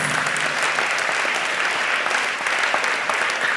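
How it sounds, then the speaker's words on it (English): Audience at a national school quiz contest breaks into sustained, dense applause honoring the heads, trainers and contestants, loud and steady from start to finish with no voices above it. "I want an even louder round of applause for your heads, your trainers, and your contestants"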